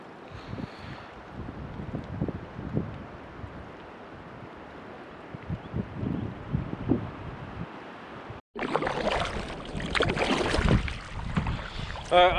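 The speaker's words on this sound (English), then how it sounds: "The wind's just been a constant blow" Strong wind buffets the microphone while paddling a canoe on big open water, a steady broadband roar with gusts, briefly dropping out before returning louder and harsher for the remainder.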